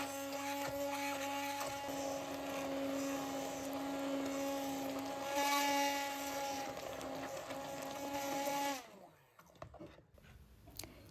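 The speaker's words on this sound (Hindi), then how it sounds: "इसको हैंड ब्लेंडर के साथ या ग्राइंडर में अच्छी तरह से पीस लेना है।" A hand blender pureeing tomato sauce whirs with a steady high-pitched electric motor, rising briefly, then cuts off abruptly, leaving near silence with faint clicks.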